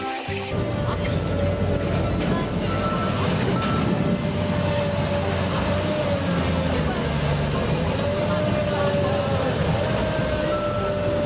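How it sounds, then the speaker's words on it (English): Bulldozer reversing alarm, part of a set of street-vehicle sounds for kids, beeping steadily and loudly over a continuous low engine rumble for the whole stretch. "Bulldozer."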